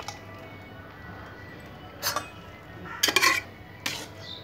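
Boiled carrots for gajar halwa go into a metal kadhai with a few clinks and scrapes of metal on metal. The clatter comes in short bursts over low kitchen background noise.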